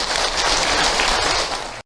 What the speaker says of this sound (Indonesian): kita boleh tepuk tangan dulu Ibu.